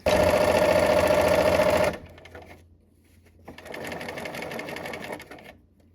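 A sewing machine runs in a loud burst of rapid stitching, stops, then sews a shorter and softer run of back stitches after a brief pause. There is no talking.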